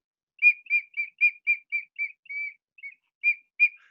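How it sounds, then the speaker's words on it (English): A Teotihuacan whistle blown very softly gives a series of about a dozen short, pure, bird-like toots in an uneven rhythm, with one slightly longer note midway, clear and close against silence. "And the whistle sounds."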